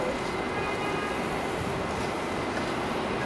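A Times Square-bound R188 subway train on the 7 line roars steadily into the elevated Junction Boulevard station in New York City, loud continuous rumble with faint wheel tones.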